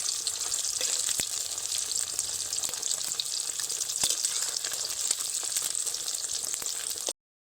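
Eggs fry in hot oil with a continuous crackling sizzle and occasional sharp pops, then the sound cuts off abruptly.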